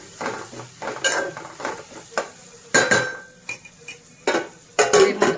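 Onion and ground spices (coriander and cumin powder) frying in a pan for a potato and soya chunk curry, with repeated scraping stirs and metal clinks of a spoon against the pan over a soft sizzle, close by.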